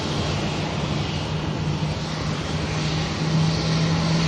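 A Ryanair airliner in from Rome on approach to land at Manchester Airport, a steady broadband engine roar with a low droning hum that swells slightly toward the end, heard alone without talk.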